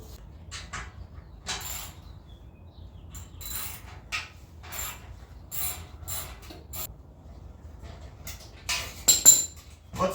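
Exhaust tip clamps being loosened and the tips worked off the pipes: a run of scattered metallic clicks, ratcheting and scraping taps, close and moderately loud, with a louder clatter near the end and no talking.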